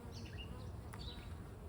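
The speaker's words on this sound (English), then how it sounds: "these are the bees that originally came from Mifflintown" Honey bees from a hive that came from Mifflintown make a steady, close buzzing swarm hum with no pauses.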